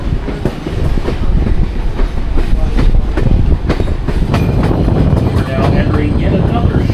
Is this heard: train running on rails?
yes